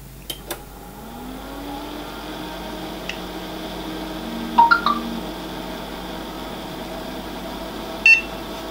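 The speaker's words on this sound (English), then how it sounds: "let's see if we get CPU beep this time" A computer booting after a new CPU is installed, giving a short beep near the end amid a quiet hum, with a few faint clicks and chirps earlier.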